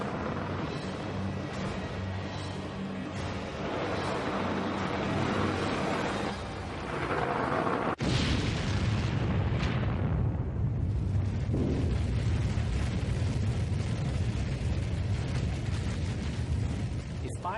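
A simulated 500-kiloton nuclear warhead detonating on the White House, heard as a loud, sustained roaring rumble that swells into a deep, rolling blast and keeps thundering, with no voice over it.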